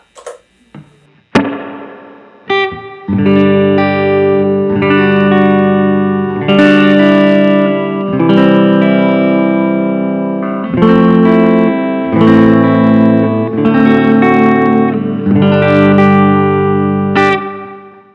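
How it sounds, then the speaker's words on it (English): Electric guitar chords through a Strymon Flint pedal's spring reverb ring out with a wet, splashy reverb tail, sustained notes blending into one another after a few sharp opening plucks. "Here is the Flint with some spring reverb."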